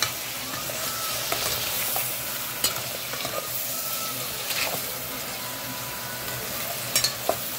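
Crab frying in butter in a pan, a continuous close sizzle with occasional clinks and stirring knocks, no one talking.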